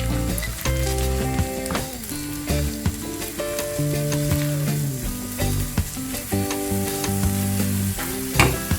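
Onions frying in a pan give a steady, loud sizzle that runs the whole time, with background music playing over it.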